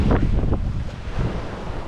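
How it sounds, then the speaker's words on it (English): Waves wash and slap against the hull of a C&C 34 sailboat moving at about 6 knots off British Columbia's Sunshine Coast, while strong wind buffets the microphone in a loud, steady rumble. "The waves are just making me a little nervous"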